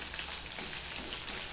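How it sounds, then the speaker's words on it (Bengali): Chopped onion fries in hot oil with nigella seeds in a pan, a faint, even, continuous sizzle like light rain, with no talk. "এবার দিয়ে দিচ্ছি পেঁয়াজ, একটা কেটে রেখেছিলাম, পেঁয়াজ দিয়ে দিলাম"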